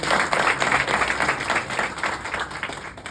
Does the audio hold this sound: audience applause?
yes